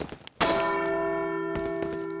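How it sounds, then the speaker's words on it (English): A village bell in the Resident Evil 4 video game rings out loudly, one strong strike followed by a long sustained metallic ring with rich overtones, then a second softer strike partway through. "Just ring the dinner bell."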